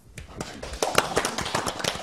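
A room of people at a Gyeonggi provincial government meeting breaks into scattered clapping, uneven and moderately loud, building over about two seconds.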